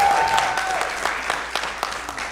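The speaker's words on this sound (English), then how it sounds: "Y'all clap too early, I won't finish." A live comedy show crowd claps and cheers in a dense burst that slowly thins into scattered, sharper individual claps, with a brief tonal sound and faint voices underneath at the start.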